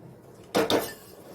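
Metal pots and pans clatter twice in quick succession while khichuri is cooked and its pot is shifted to the oven, two sharp close clanks over faint kitchen background, no talking.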